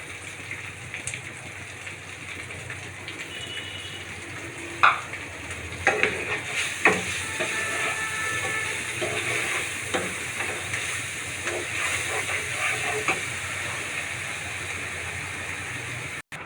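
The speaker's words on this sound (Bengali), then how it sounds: "আমি একটু মশলাটাকে কষিয়ে নিচ্ছি" Spices fry in a pan with a soft, steady sizzle and hiss, broken by occasional light knocks and scrapes of stirring, fairly quiet and close.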